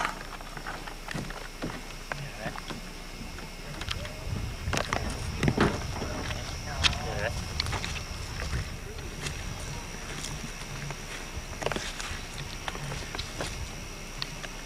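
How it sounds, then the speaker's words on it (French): A small motorboat approaches on a lake with a low, steady engine hum under people talking, while scattered knocks and splashes come from nearby. "il y a un monsieur en chaloupe à moteur qui arrive"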